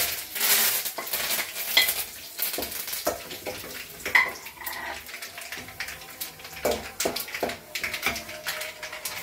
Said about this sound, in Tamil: ஃபர்ஸ்ட் இந்த கடுகு உளுத்த பருப்பு போட்டுக்குவோங்க.